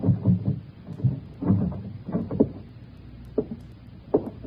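A house door being tried and opened, with several muffled clunks and rattles of the handle and latch spread unevenly over a few seconds, fairly quiet and without speech.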